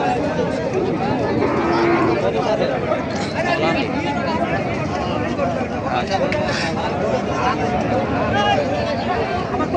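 Cattle, including thin dairy cows, lowing amid a dense crowd murmur at a cattle market in Ambari, with people chattering throughout and occasional moos rising over the busy background.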